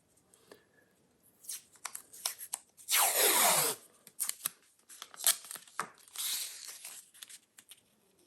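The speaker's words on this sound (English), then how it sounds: "put some painter's tape on that seam" Painter's tape is torn and pressed over a seam on a Marshall JCM800 amplifier cabinet being restored: scattered close rustles and crinkles, then a long ripping tear, followed by more short rips and rubbing.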